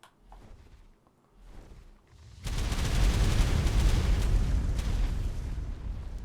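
A fire-breathing attack in the video game ARK with the Dark And Light mod: a sudden loud, sustained roaring blast of flames that holds steady for several seconds after some quieter rumbling.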